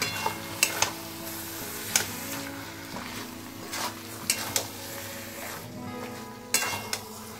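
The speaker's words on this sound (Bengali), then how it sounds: "এবার আখের গুড় দিয়ে খুব ভালোভাবে কুলগুলো আমি মিক্সড আপ করে নেব" Berries for a pickle are stirred with 350 grams of sugarcane jaggery in a pot, a steady sizzle running beneath intermittent spoon scrapes and metallic clinks against the pan, with no talking.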